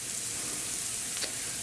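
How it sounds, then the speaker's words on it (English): Onions frying in butter in a pan for a mushroom sauce, a loud, continuous, close-up sizzle that crackles steadily throughout with no voices. "So you can see here it's frying."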